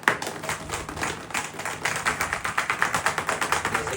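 Speed skate bearings shaken inside a bottle of cleaning solution give a fast, steady rattle of close, rhythmic clicking bursts that grow more regular and pulsing toward the end, with no talking over it.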